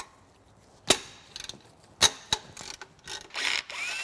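Metal clicks and ratcheting bursts from a wrench working a tight alternator bracket bolt on a Cummins 12-valve diesel engine, several sharp, close clicks spaced irregularly with short pauses between, no talking.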